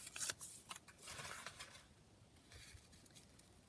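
Paper page from a book torn by hand, a soft rough ripping with a few quiet crackles, close but faint, no voices.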